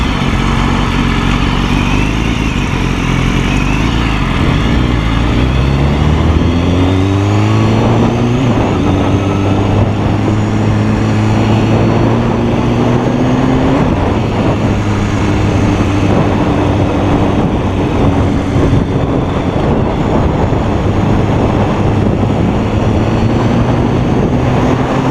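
A 2015 BMW S1000RR sport bike lane splitting through California traffic roars loudly up close. Its engine tone climbs and shifts through the gears over constant rushing wind, with no voices.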